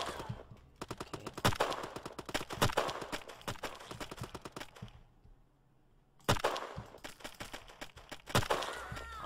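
Rapid bursts of gunfire from an egg-themed first-person shooter video game sound close and loud, with a short lull partway through before the shooting resumes.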